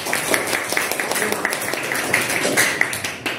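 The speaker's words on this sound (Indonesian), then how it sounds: "Bisa tepuk tangan dulu." A school class claps together in a classroom, a steady spatter of hand claps lasting a few seconds, fairly soft and somewhat distant.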